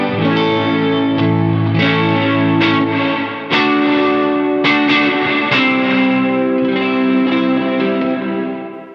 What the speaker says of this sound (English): It adds that kind of lo-fi saturation to the guitar sound as well, and not just to the reverb.